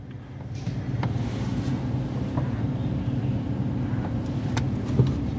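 A car creeps slowly along a narrow lane, its engine a steady low hum with faint rumble and occasional light clicks, fairly close and with no voices.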